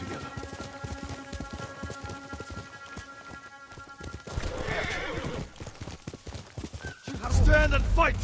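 Horse hooves clip-clop in a fast gallop with loud neighing and whinnying in the video game Ghost of Tsushima, mixed with shouted voices, combat noise and a swelling music score.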